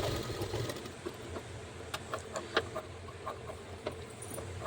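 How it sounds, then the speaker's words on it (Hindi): A sewing machine stitches extra seams along a lined blouse fitting, a steady low mechanical whir with light clicks and taps scattered over it, close and continuous with no talk. "तो ये देखिए हम थोड़ी सी सिलाई और लगा दी हमने"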